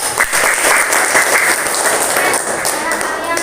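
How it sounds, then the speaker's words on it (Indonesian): Sustained applause from a classroom of students after a lesson, dense steady clapping filling the whole stretch at a loud, even level. "Tepuk tangan dulu."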